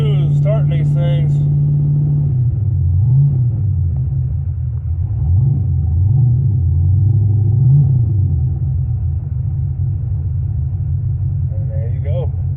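A carbureted engine cold-starts and settles into a loud, steady idle, its low rumble wavering slightly in pitch before evening out. Brief voices are heard at the start and end.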